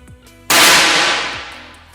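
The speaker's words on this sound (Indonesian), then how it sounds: "kita ambil 10 tembakan" A single sharp SR air rifle shot cracks out loudly, followed by a long hissing decay that fades over more than a second, with faint clicks before it.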